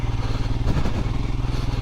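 A 2022 Royal Enfield Himalayan Scram 411 motorcycle riding off-road, its single-cylinder engine thumping loud and close in a steady pulsing beat.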